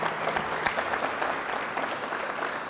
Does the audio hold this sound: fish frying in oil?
no